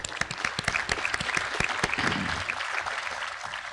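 Audience at a Forty Under 40 awards event gives steady, continuous applause, a full wash of many hands clapping at moderate loudness throughout, with a few louder individual claps near the start.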